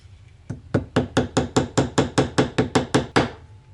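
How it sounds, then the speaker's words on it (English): Steady hammering of axles into a pinewood derby car, about a dozen sharp, evenly spaced metallic blows struck close by in quick rhythm, with nothing else heard. "Who taught you how to hammer like that?"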